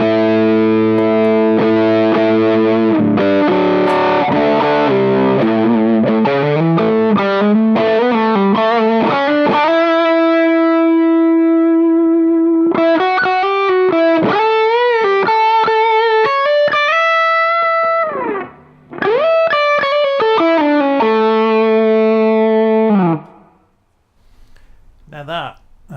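Electric guitar through Suhr pedals plays a mellow, singing lead with sustained bent and gliding notes and light distortion, loud and close, with a brief dip mid-phrase and a quiet tail at the end.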